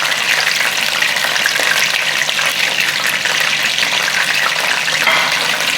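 Steady, loud sizzling of chicken, potato and ginger-garlic paste frying in a pan for biryani, with scraping and stirring sounds throughout and no talking.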